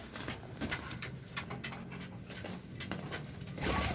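Pigeons in a loft flutter and scuffle with soft wing flaps and bursts of movement over a constant, dense background hiss, ending in a louder rush of flapping.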